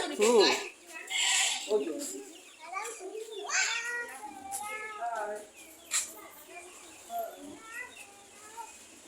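Goat bleating on a home farm during Eid preparations, several wavering bleats at close range mixed with people talking and other animal calls.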